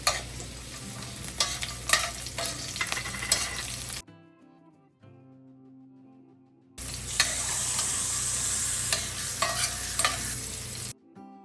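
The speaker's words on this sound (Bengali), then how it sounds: "আমি চিংড়ি মাছটা ভাজার জন্য বসিয়ে দিয়েছি" Prawns sizzle in a hot pan in a home kitchen, a steady crackling fry broken by scraping stirs; the sizzle drops away for a few seconds, then returns loud and continuous.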